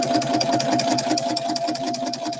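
A sewing machine fitted with a walking foot runs steadily at a fast, even stitching rhythm with a constant motor hum, close and alone without any talk.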